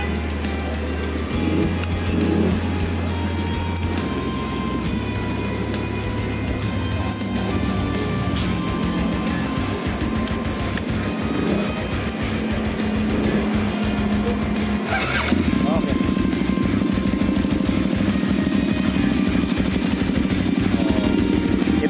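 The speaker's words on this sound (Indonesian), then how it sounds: "Kita dengarkan ya sound motornya guys." A KTM RC8 1190 sport motorcycle fitted with an aftermarket exhaust runs steadily at idle, a continuous loud engine drone with low rumble throughout, rising slightly in intensity partway through.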